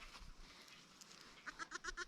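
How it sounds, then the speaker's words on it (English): A newborn baby goat on a farm gives a quick run of five or six short, rhythmic bleats near the end, faint against a quiet outdoor background. "That's a baby goat."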